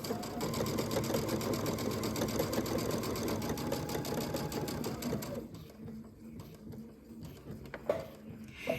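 A sewing machine stitches a one-piece fabric sourdough bread bag at a 2.5 mm stitch length, running with a steady rapid whir and needle chatter for about five seconds, then stopping into quieter handling clicks and rustles nearby.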